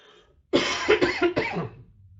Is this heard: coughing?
yes